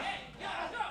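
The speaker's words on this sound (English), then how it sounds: "Crowd working to rally the new champ" A wrestling arena crowd roars steadily to rally behind the new champion, a dense, distant wash of voices that swells briefly and stays continuous throughout.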